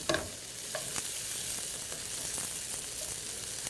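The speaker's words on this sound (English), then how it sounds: "So basically, we're going to give it a jump in the pan." Vegetables, including peppers and onions, tossed in a hot sauté pan: a steady close sizzle runs throughout, with a few sharper clatters and hisses as the pan jumps near the start and again around the middle.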